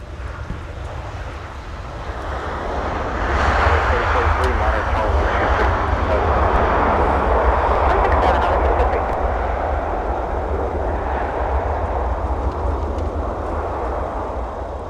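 An airliner arrives at MSP airport on a winter night: a broad jet roar builds after a few seconds, holds loud and steady as the plane passes, then slowly eases off.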